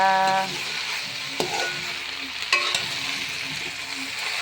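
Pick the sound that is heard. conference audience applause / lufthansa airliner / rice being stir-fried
rice being stir-fried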